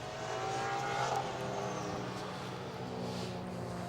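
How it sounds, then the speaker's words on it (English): Race car at Sydney Motorsport Park during a Motorsport Australia Trophy Series race, a steady loud engine drone passing along the circuit with a rising whine, continuous for several seconds with no voices. "And here's Nash Morris coming around."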